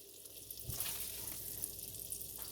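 Butter sizzles in a pot on a stovetop, a soft, steady frying hiss that stays fairly quiet and even throughout, with no talking.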